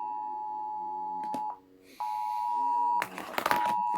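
A Samsung Galaxy Core Prime phone gives off a steady, loud electronic beep tone that cuts out briefly and resumes, ending in a burst of noisy clatter near the close.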